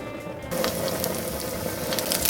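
Garlic and chili fry on a high flame with a steady, close sizzle that suddenly grows louder partway through, with no talking.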